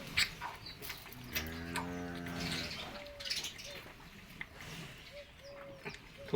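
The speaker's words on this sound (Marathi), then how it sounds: "कशा येते मेंढ्या बघा" A flock of sheep: one nearby sheep lets out a drawn-out bleat, then shorter, quieter bleats follow over a soft, noisy background.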